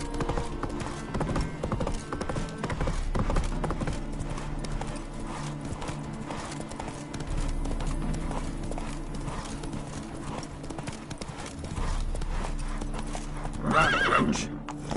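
Roach, a horse in The Witcher 3, gallops with steady clip-clop hoofbeats under continuous game ambience and music, then gives a loud whinny near the end.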